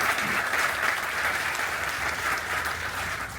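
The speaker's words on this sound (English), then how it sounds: "Please give them a round of applause" Sustained audience applause at an outdoor groundbreaking ceremony for an innovation center, a steady, dense wash of clapping from a sizable crowd that holds at an even level throughout.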